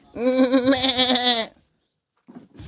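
A goat bleats once, close and loud, a long wavering cry lasting over a second in a rural village goat area, followed by silence and then a brief faint voice at the end.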